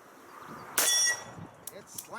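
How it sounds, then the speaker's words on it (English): A single bullet from a Colt 1911 pistol strikes a steel gong with a loud, bright metallic clang that rings on briefly, followed by a faint second ping and quiet background chatter. "It's slamming that gong hard"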